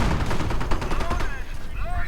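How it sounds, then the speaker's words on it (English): Gunfire and artillery fire rattle in a World War II real-time strategy game, a dense burst of shots and booms with a commentator's voice partly over it. "Bunker under heavy artillery fire."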